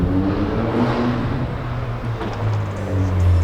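A Ford Focus RS Black Series approaches with a steady low engine drone that swells gradually, heard alone without voices.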